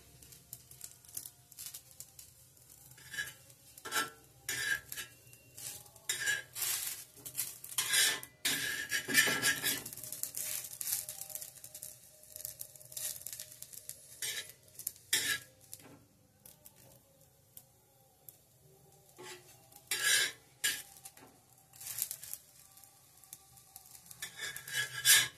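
Patishapta crepes fry in a pan while a utensil scrapes, clinks and taps against it in irregular bursts, close and fairly quiet, with a faint sizzle underneath.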